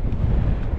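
Strong, blustery wind near the top of Windy Gyle in Northumberland, a brief rough roar buffeting the microphone, no voices.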